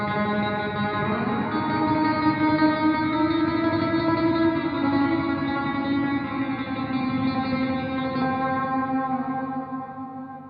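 A guitar chord rings out through a cathedral reverb set to 100% effect and 100% dry tone, drenched in vast reverb, its sustained tones washing together and slowly fading.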